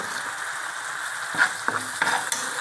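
Masala for a bitter gourd gravy sautéing in a pan, a steady low sizzle with a few sharp scraping stir clinks of a utensil near the end, close and without speech.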